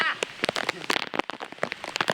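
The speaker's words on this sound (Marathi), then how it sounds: "फारच पाऊस आला" Heavy monsoon rain pours down at Ghangad fort, a dense steady wash broken by bursts of louder drumming and splatter close by.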